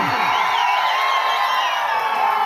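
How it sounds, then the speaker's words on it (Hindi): Crowd cheering and whooping at a live Bhojpuri stage show in Salempur, Deoria, a steady roar of the audience mixed with music-like tones throughout. "आदरणीय विजय चौहान जी के लिए जोरदार की ताली बजाइए।"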